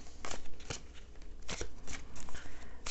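Tarot cards are shuffled in quick, irregular riffling bursts, each a crisp papery flutter heard close up, with short pauses between them and no talking.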